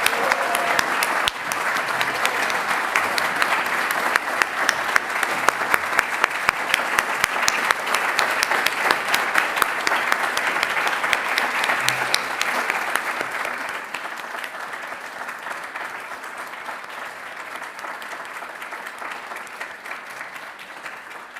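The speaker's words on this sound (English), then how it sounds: "Everyone, please give them a big round of applause." Sustained audience applause at a diploma programme graduation ceremony, a dense wash of many hands clapping steadily, loud at first and then easing slightly to a softer, continuing ovation.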